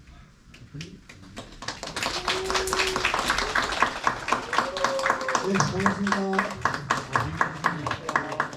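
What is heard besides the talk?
audience applause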